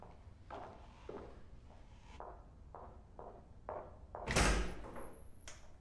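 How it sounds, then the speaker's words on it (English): An apartment door opens during a New York police visit: a run of soft thumps and steps, then a louder close thud of the door swinging open, with no talking. "NYPD, open the door."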